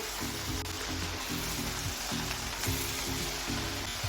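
A second batch of talan, a crisp fried snack from Parbhani district, sizzles in hot oil: a steady, fairly loud bubbling hiss with faint tonal hum underneath, no talk.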